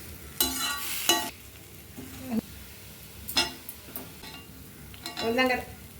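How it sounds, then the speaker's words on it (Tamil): Elephant foot yam pieces stir-frying in a pan over a low flame, with scattered scraping stirs and soft sizzling bursts at a moderate distance, no voices over it. "லோ ஃப்ளேம் வச்சு வறுத்து எடுத்துக்கலாங்க"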